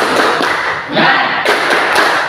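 A school class claps the rhythmic "tepuk semangat" spirit clap together, loud bursts of sharp, close hand claps in quick sequence.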